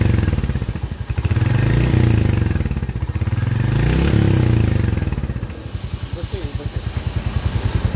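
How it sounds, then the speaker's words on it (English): Royal Enfield Hunter 350 motorcycle engine with a Euro 5 exhaust, idling then blipped in quick revs that rise and fall, loud and close, settling back into a chugging idle. "Do some quick revs."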